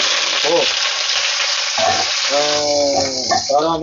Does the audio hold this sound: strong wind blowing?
no